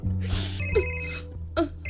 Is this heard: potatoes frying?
no